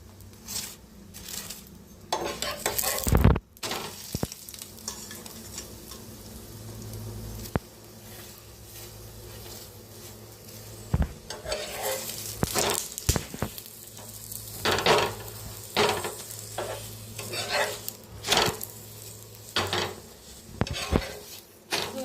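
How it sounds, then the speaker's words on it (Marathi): Eggplant roasts in oil in a pan and is turned over, a low sizzle broken by clinks and scrapes of a utensil against the pan, no voices. "साईडने छान अशी भाजून घ्यायची, फिरवून फिरवून भाजून घ्यायची."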